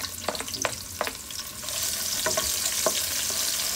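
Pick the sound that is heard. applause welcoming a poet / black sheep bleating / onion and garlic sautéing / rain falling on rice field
onion and garlic sautéing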